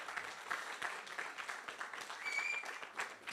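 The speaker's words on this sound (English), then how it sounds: "another round of applause for the presidential candidates" Faint, distant applause from an audience for presidential candidates at a candidates' event, a quiet patter of clapping with some low voices in the room.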